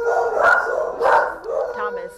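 Dogs barking inside an overcrowded animal shelter, a few loud, close barks in quick succession with echoing reverberation.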